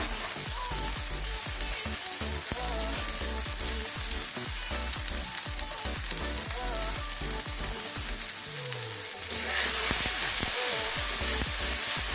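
Spice paste (masala) frying in a pan for Bengali katla fish kalia with yogurt, a steady loud sizzle with repeated scraping stirs, then a sudden louder hiss near the end as something is added to the pan.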